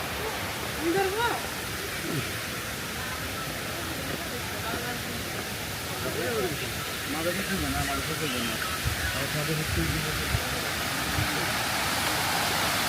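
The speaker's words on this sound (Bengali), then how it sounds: "ঝর্ণা ঝর্ণা, এটা হচ্ছে কৃত্রিম ঝর্ণা।" An artificial waterfall at Foy's Lake, Chittagong, roars as a broad, steady rush of falling water, with voices of people nearby talking over it throughout.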